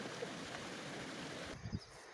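A mountain stream flows steadily near a temple site in Rukum, a constant broadband rush of water heard alone, with a brief low thump near the end.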